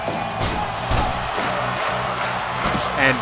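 A wrestling crowd at a house show cheers and whoops loudly as a wrestler applies a spinning toe hold, with rhythmic bursts of shouting and clapping rising and falling throughout.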